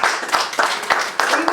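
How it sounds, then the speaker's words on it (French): Audience clapping at a gallery anniversary event with music and poetry performances, close, loud individual claps in an uneven rhythm with a voice briefly audible beneath. "Je pense qu'on peut applaudir d'avance les performances musicales."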